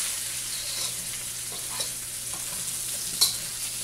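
Garlic fries in a pan for chicken adobo, giving a steady close sizzle with soft scraping stirs and one sharp clink near the end, and no voices.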